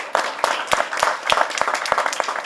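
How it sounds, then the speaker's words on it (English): A modest audience at an international arbitration moot court competition claps for the participants, producing sparse, distinct handclaps in an uneven rhythm over a couple of seconds. "A huge round of applause for everyone who participated in this competition"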